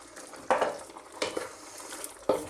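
Whole asparagus spears go into a hot pan one after another, each landing with a short burst of sizzle and scraping, close and fairly quiet, with no voices.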